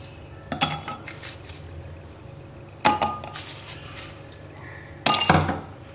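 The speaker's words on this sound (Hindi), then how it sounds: "अब हम सबसे पहले ग्लास में सर्व करने के लिए बर्फ ऐड करेंगे" Ice cubes drop into a serving glass for tamarind sherbet in three distinct clattering bursts, each a bright clink and rattle of ice against glass, close and separated by quiet pauses.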